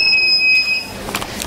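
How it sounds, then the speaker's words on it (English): A smart UPS beeps after a PC's power supply is cut: a steady high electronic beep tone holds for under a second, then cuts out, followed by faint clicking and low background hum. "the UPS is started beeping"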